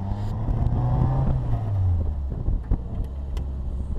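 A 1960 Iris Blue Bugeye from California drives past close by, its small engine droning and shifting pitch as it slows, followed by quieter rolling noise and a few light knocks.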